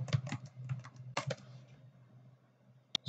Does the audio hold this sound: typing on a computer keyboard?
yes